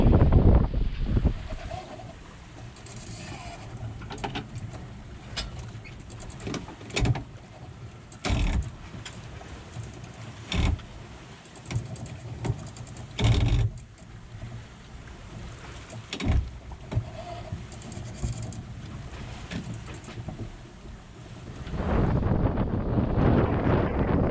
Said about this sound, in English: these are like southerly winds